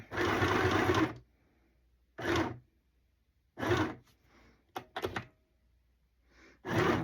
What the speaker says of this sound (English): I don't sew real fast because I'm afraid if I slip it through there, I'm going to mess it up.